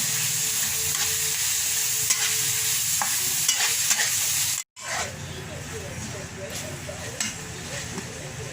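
Asado filling with oyster sauce being stirred and fried in a pan for putopao, a close, steady sizzle with scraping stirs, briefly cut out midway and then resuming, with a person talking over it.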